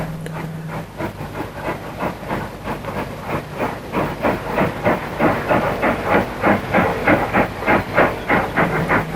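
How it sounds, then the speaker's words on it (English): A steam train runs along the rails in Ireland, its rhythmic chuffing beats and wheel clatter rising steadily in volume and pace, loud and close, with no voices. "Then the train travelled through Barnesmore Gap in all its beauty and on to Donegal town."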